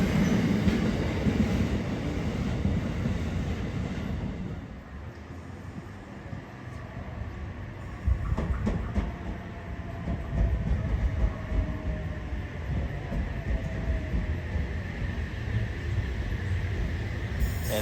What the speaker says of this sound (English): We have another freight train zooming past us here on platform 2